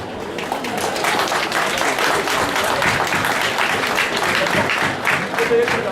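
A crowd at a May Day union rally in Guadeloupe applauds loudly and continuously, with dense clapping and crowd noise, and voices mixed in throughout.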